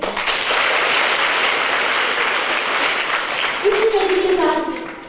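An audience at a government high school gathering in Ghanche, Khaplu bursts into loud, sustained applause with dense clapping that fills the space, and a voice rises over it near the end.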